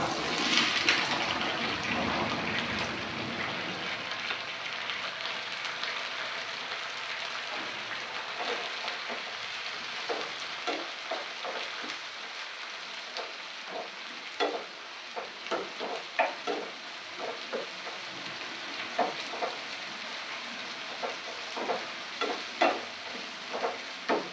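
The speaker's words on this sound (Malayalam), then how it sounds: "നമ്മൾ ഇത് ചെറിയ ഉള്ളി സവാള ഇതിനകത്തിട്ട് വഴറ്റി വെക്കാം." Small shallots and onion sauté in a pan for a chicken thoran with a soft, steady sizzle. A utensil stirs and scrapes in irregular bursts that grow more frequent as the cooking goes on.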